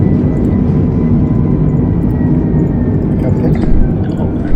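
Steady broadband engine roar of an Airbus A320neo rolling on the runway in Flight Simulator, a continuous low rumble with a faint hiss above, loud and unbroken throughout.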